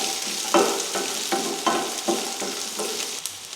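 Onion, grated coconut and tomato fry in oil for mutton kulambu, with a soft continuous sizzle broken by about six distinct stirring scrapes and knocks of a spoon against the pan at a steady pace.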